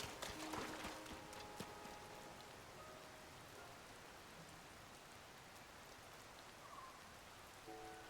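Steady rain falls in the video game Zelda Tears of the Kingdom, a continuous soft hiss of drops that is slightly busier at the start, faint and even throughout with no voices.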